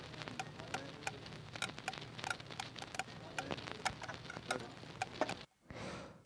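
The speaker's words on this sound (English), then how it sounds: "I think I was spinning like a fidget spinner or something." Foley loop recorded from a spinning fidget spinner, a quiet, fast patter of tiny ticks and clicks repeating steadily for several seconds before a short gap and a soft whooshing tail.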